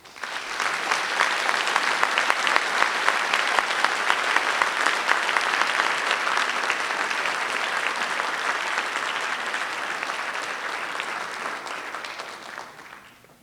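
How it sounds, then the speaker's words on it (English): A high school auditorium audience at a National Honor Society induction gives a long round of applause for new inductees, full and sustained clapping that tapers away at the close. "If everyone could give a round of applause to all new inductees."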